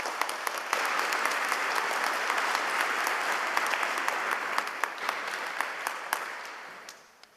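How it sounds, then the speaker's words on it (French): A church congregation at Sunday Mass claps loudly and steadily, with sharp individual claps standing out, before the applause tapers off and stops near the end. "On vous applaudit très fort pour cette étape que vous venez de faire."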